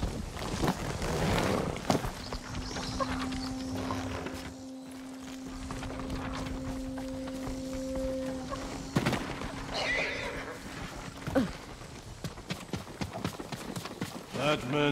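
Horses' hooves clip-clop steadily in the video game Ghost of Tsushima, with whinnies and footsteps mixed in, while a sustained tone and in-game voices talk over the hoofbeats.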